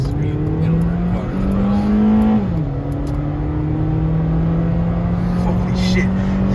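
A car revving loudly on a street with a steady engine drone that climbs in pitch, drops sharply as a gear shifts, then holds an even high whine. A faint voice sounds underneath.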